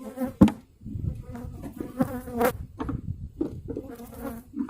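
Honey bees buzzing around an opened hive during spring hive changeover and maintenance, a close, dense insect drone with irregular bursts and a few knocks and handling sounds.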